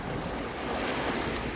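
Waves wash onto a beach at Port Hope in a steady, continuous roar that stays close and loud throughout, mixed with gusty wind buffeting the microphone, with no voices.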